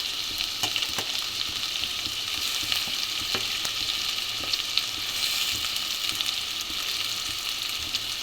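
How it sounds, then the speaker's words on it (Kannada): Potatoes frying in a pan for a hotel-style potato curry, a steady, close sizzle with occasional stirring scrapes and crackles running throughout, with no talking. "ಚೆನ್ನಾಗಿ ಫ್ರೈ ಮಾಡಿ, ಫ್ರೈ ಆಗ್ತಾಯಿದೆ."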